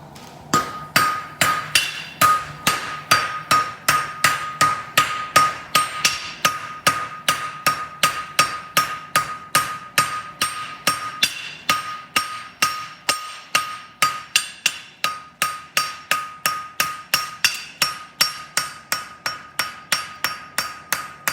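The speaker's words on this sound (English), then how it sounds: "now it's time to get out and hit it" Rapid, steady hammer blows ring on an anvil while forge welding an egg bar horseshoe, dozens of sharp strikes in an even rhythm, loud and close, with no talking.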